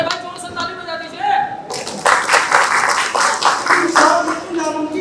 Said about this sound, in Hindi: अरे भाई जोर से ताली बजा दीजिए।